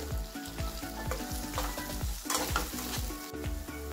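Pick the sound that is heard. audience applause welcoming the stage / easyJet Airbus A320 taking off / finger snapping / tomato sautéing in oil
tomato sautéing in oil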